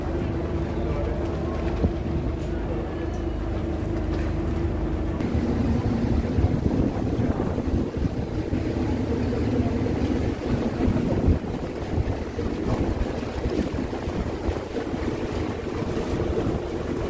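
Strong wind buffets the microphone on a boat deck on Lake Thun, Switzerland, over a steady boat rumble and splashing water, with voices talking faintly underneath.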